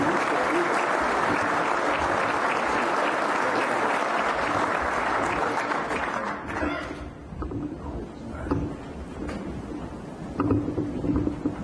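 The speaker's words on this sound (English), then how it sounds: "let's give those two units another round of applause for their achievement and excellence" Audience applause at an army awards forum honoring two award-winning Army Reserve units, a dense sustained roar of clapping that thins and fades after about six seconds into scattered claps and murmurs.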